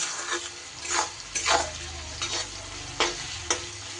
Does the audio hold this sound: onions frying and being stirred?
yes